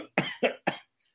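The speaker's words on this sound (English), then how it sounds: "I start coughing because I can't clear my throat" Three sharp coughs in quick succession, close and loud, followed by a faint trailing breath.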